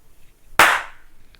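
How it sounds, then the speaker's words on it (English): A single sharp hand clap, close and loud, ringing briefly before fading into a quiet room. "Let's do that again, a clap."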